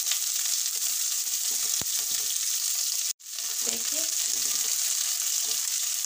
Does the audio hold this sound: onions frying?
yes